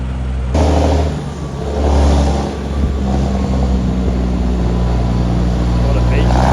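A telehandler with a new exhaust (no flap on top yet), its engine rumbling loudly up close with deep, steady revving that swells and eases, while people talk nearby.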